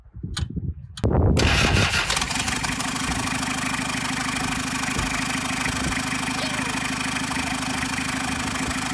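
A Toyota Hilux LN106 diesel with an open turbo cranks briefly and then starts. It settles into a loud, steady idle close by, with a noisy turbo whine over the engine.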